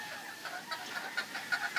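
Chickens on a poultry farm clucking in short, rapid bursts, close and moderately loud, several birds overlapping in an uneven rhythm.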